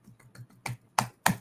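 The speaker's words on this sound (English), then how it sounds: "You get the third soft live stream clap of the day" A few soft hand claps during a live fragrance talk stream, three or four quiet pats building to two sharper, louder claps near the end, each short and close to the microphone.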